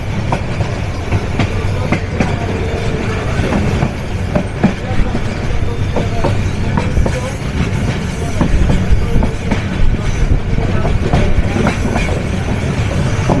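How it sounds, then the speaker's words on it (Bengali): The Kurigram Express intercity train, running with a used rake, rounds the large Ishwardi bypass curve at dusk. There is a loud, steady rumble with rhythmic clickety-clack of wheels on the rail joints and some faint wheel squeal throughout. "ঈশ্বরদী বাইপাসের সুবিশাল কার্ভে আন্তনগর কুড়িগ্রাম এক্সপ্রেস মহানগর এক্সপ্রেসের ব্যবহারকৃত র্যাক নিয়ে ছুটে চলছে রাজধানী ঢাকার পথে।"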